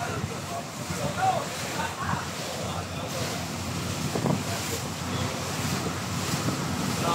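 Strong headwind buffets the microphone over rushing water and surf on Taal Lake, with voices talking faintly beneath the noise.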